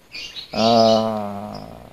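A caged songbird gives a short high chirp, then a longer, full, ringing note that slowly fades, clear and nearby.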